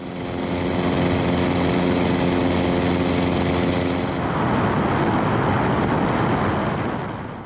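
The fuel-injected engine of an FX3 light aircraft runs loud and close with a steady propeller drone, then the tone changes as the throttle shifts before the engine fades slightly at the end.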